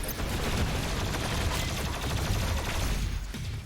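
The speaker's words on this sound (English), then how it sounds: "Plasma rifle." A plasma rifle in Doom Eternal fires as one dense, unbroken stream of rapid energy shots, loud and constant for a few seconds before it tapers slightly at the end.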